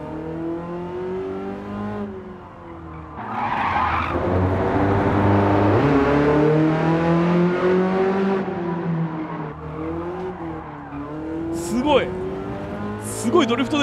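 A BMW M3 drifts in Gran Turismo 7, its engine note rising and falling in sweeping revs while brief tire squeals cut in near the end, loud and close.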